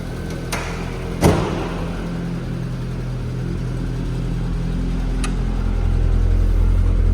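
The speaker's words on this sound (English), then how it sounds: "Do you mind if we take it for a little drive, Brent?" A barn-find car's engine rumbles steadily as it is driven, with a sharp knock near the start and the engine noise slowly building louder toward the end.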